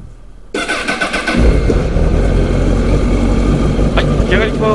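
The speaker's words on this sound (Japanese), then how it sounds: "ではですねエンジン始動いきたいと思います。" A Honda CBR1000RR SC57 inline-four motorcycle engine, original condition, cranks and fires up after half a second of quiet, then settles into a loud, steady idle close by.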